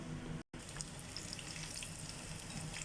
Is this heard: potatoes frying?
yes